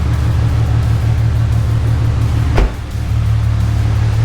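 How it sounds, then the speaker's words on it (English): Infiniti G37 sedan running after a swap to a VR30 transmission, a steady close engine rumble with a brief knock partway through, then the idle hum carrying on. "But the car's running."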